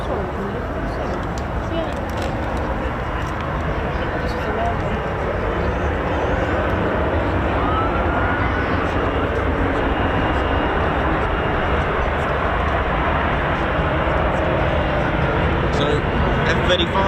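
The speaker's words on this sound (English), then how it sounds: "F-35's 135 decibels, here we go." An F-35 fighter jet roars loud and continuous at the RAF Cosford air show, a broad steady engine rumble filling the whole stretch, with crowd voices faintly beneath it.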